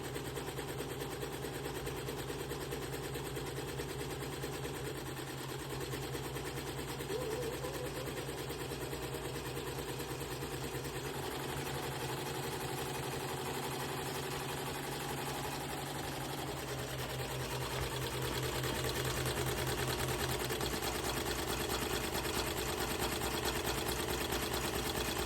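A Bai Mirror multineedle embroidery machine stitches continuously, a close, steady mechanical whir with a fast rhythmic needle beat that stays even throughout.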